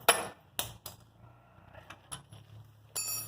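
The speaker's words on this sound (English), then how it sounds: "my lovely assistant here is going to drive the pins out of the caliper with a brass punch" A brass punch is hammered against the pins of a Ford Ranger front axle brake caliper, giving several sharp metallic taps spaced irregularly over a few seconds, close and fairly quiet, with no talking.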